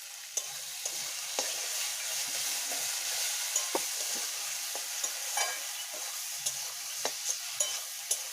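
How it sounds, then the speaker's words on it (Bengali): Spice masala frying in oil for a duck egg curry, a continuous bright sizzle with frequent sharp stirring scrapes and taps of a spoon on the pan, close and alone. "মশলাটা ভালো করে ভেজে নিতে হবে। আমি আরেকটু তেল দিয়ে দেবো মশলা ভাজার জন্য।"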